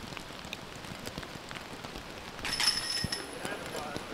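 Rain falls on the ground during a disc golf round at the European Open, a steady soft patter that picks up toward the end, with a few people talking faintly alongside it.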